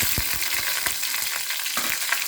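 Slit green chillies fry in hot salted oil, a bright steady sizzle with quick crackling pops, close and alone.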